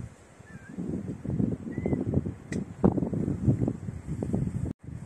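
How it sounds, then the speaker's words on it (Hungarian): Wind gusting outdoors across the microphone, a rumbling, buffeting roar that swells and eases over several seconds, with faint bird chirps in the background. "fúj a szél"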